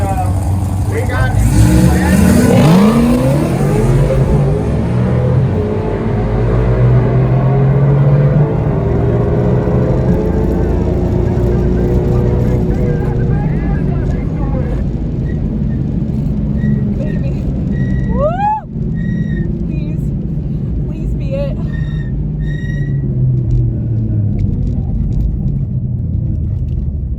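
Whipple supercharged 2018 Mustang racing Camaros on the street, a loud roaring engine and tire rumble that swell then fade into distance over nearly half a minute, with voices talking over it.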